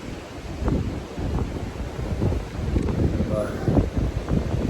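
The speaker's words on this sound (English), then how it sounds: "you can hear the wind" Wind gusts buffet the microphone on a mountain trail after heavy overnight rain, a steady low rumble throughout with a person speaking briefly over it.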